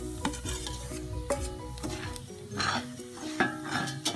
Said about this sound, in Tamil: அந்த எண்ணெயோட ஹீட்டில் இந்த மாவு பொரியும்